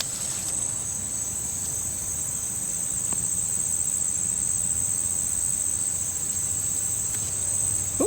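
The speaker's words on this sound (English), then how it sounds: "there's a little cricket back here" A small cricket chirps in a summer garden in August with a continuous, high, shrill trill that holds steady throughout. It sounds close, alone, and without voices.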